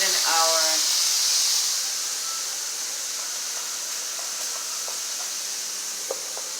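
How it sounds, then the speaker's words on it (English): Meatballs sautéing in olive oil in a pan give a steady, fairly loud sizzling hiss that fills the whole stretch, with a voice briefly at the start and a few faint utensil taps. "these are going to saute a few minutes in our olive oil here"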